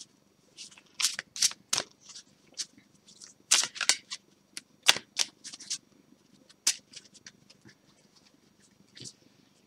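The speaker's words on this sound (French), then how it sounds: "On va prendre une petite carte au hasard." Oracle cards are shuffled by hand in a series of quick, crisp riffles and flicks, close and fairly quiet, with faint talk underneath.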